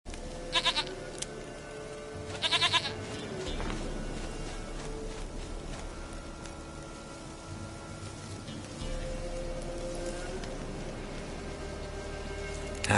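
A goat bleats in The Witcher 3, two short close calls early on over a quiet game soundscape of rain and ambience.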